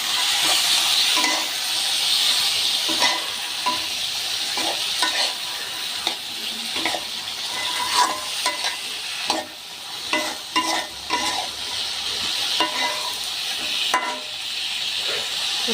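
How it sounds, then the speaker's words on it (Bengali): Tomatoes with bean seeds fry in a pan while being stirred, giving a constant hissing sizzle with scraping, clacking stirring strokes that come in irregular bursts, close and fairly loud. "নেড়ে চেড়ে নেব"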